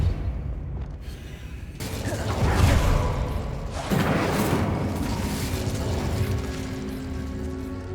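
In a Hogwarts wizarding video game, the Depulso spell lands with a sudden loud whooshing blast, then a second rumbling impact and a lingering mechanical roar.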